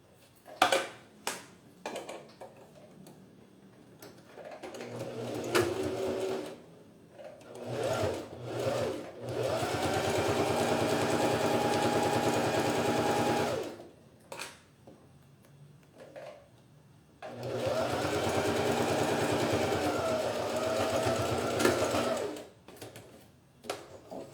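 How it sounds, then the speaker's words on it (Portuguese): A sewing machine with a presser foot stitches fabric from the inside of a zippered organizer pouch, running in two long sustained bursts separated by short pauses and scattered handling clicks. "eu vou costurar aqui, ó, com um pezinho de máquina, pelo lado de dentro mesmo"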